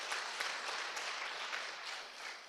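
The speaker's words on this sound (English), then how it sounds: "Please join me to give them a big round of applause." A conference audience in a hotel hall applauds the keynote speakers, a dense, steady wash of many hands clapping, moderately distant and without talk.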